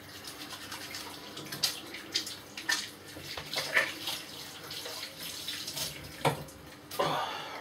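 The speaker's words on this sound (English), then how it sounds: "Better wash my hands first before doing anything." Hands being washed under a running tap at a sink, with a steady splashing water stream broken by louder bursts of scrubbing and splatter, close by, with no talk.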